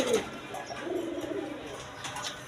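Big Indian Kaldom pigeons, a male and a female, coo softly and continuously at close range in a loft, a low steady murmur of several birds with faint background chatter.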